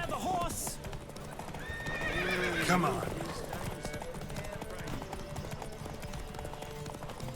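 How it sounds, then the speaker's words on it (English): A horse in the video game Witcher 3 gallops with steady, rapid clip-clop hoofbeats and gives a loud neigh early on, while a voice speaks briefly over the hooves. "Don't spare the horse!"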